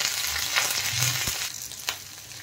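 Chopped ginger, garlic and green chillies fry in hot oil in a pan, a close, steady sizzle broken by a couple of soft scraping stirs and a brief knock of the spatula.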